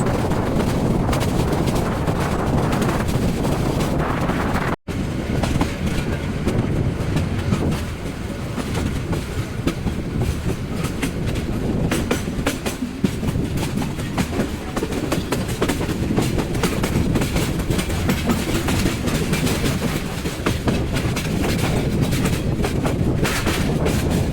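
The Parabat Express intercity train rolls around a big curve, a loud, continuous rumble with clickety-clack of wheels on rails and wind buffeting the microphone throughout.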